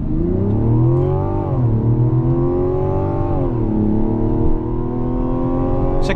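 A 2025 Mazda CX-70 accelerates hard, its engine droning loud and steady from inside the cabin, pitch climbing with brief dips between gear changes.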